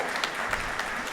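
A short burst of audience applause, moderately quiet, a dense patter of clapping with no talk over it.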